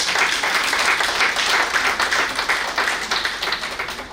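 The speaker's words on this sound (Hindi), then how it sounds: "एक बार उनके लिए तालियां जरूर हो जाए" A live audience at an award ceremony in Delhi claps together in a dense, continuous round of applause that stays loud and even throughout, with no speech over it.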